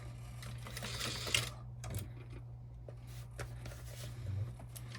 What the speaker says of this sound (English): I'm just going to stitch over right here where I messed this up